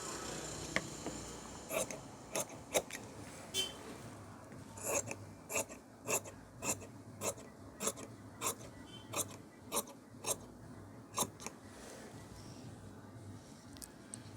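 Fabric scissors snip through blouse cloth while a back-open V-neck blouse is cut by a tailor: a close, steady series of crisp, rasping cuts at a regular rhythm over a quiet background.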